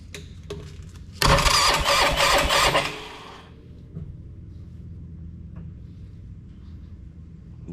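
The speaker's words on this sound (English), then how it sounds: "I'm gonna hit the starter button and see if we get fuel in that rag" A Polaris Sportsman 500 ATV, just after a top-end rebuild, cranks on its electric starter in one loud, churning burst of about two seconds that fails to fire, followed by quiet idle background and faint clicks.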